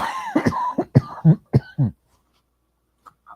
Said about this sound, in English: Oh my God, I got a cough.